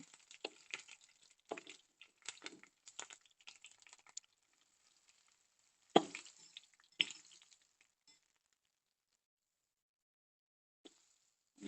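Curry leaves dropped into hot oil in a pan while cooking ivy gourd fry, crackling in sharp bursts of sizzle that come and go, with loud spatters and long quiet gaps between them.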